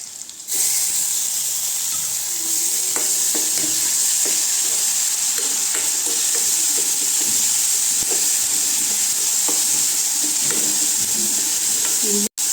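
Onions with ginger garlic paste sautéing in a pan for a liver fry, a loud continuous sizzle and hiss with scattered clicks of stirring throughout, cutting off abruptly at the end.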